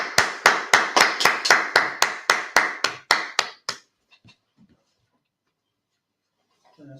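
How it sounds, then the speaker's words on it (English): A few hands in a small audience clap in a steady, evenly spaced rhythm of about fourteen sharp claps, then stop abruptly, leaving near silence with faint scattered taps. "clap it up, everyone, yeah?"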